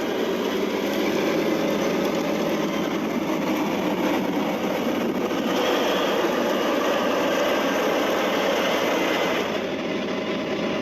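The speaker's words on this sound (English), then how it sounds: "The triple tires help the tractor to maintain an even speed across the field, digging in and pulling through." A big John Deere 9R 440 tractor on triple Firestone tires pulling through a field, a loud, steady engine drone and rumble that holds unbroken throughout, with no talk over it.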